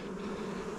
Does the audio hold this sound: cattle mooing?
no